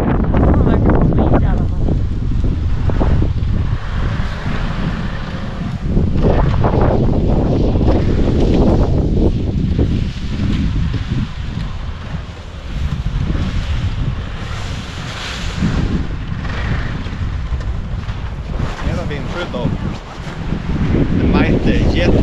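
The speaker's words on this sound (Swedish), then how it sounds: "Fint men blåsigt." Strong wind roars continuously outdoors across snowy terrain, buffeting the microphone with a heavy low rumble that rises and falls, with a voice faintly audible beneath it.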